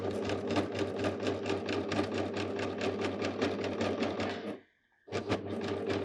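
An Amber Air S 600 overlocker stitches fabric with a fast, steady, whirring mechanical chatter. It stops briefly, then resumes at the same even pace, close and alone.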